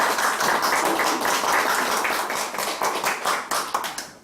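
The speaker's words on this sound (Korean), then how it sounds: "박수로 맞이해 주십시오" An audience gives sustained, fairly close applause to welcome a lecturer at a free public classics lecture, with individual claps pulsing through a dense crowd sound that fades at the end.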